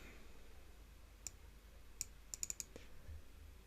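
Keys tapped on a computer keyboard while entering text into Cricut design software, a few light, quiet clicks, one isolated and then a quick cluster near the end, with no talking.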